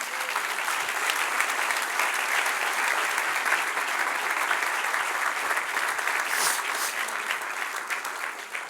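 A church congregation applauds during a sermon, steady, even clapping filling the room at full strength for the whole stretch, with faint voices mixed into the crowd noise.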